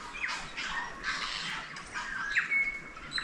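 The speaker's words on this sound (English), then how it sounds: "There's a lot of tuis I can hear." Tui birds calling in a remote New Zealand forest in winter, a run of squawks, clicks and bright whistled notes, fairly faint and distant against a quiet background.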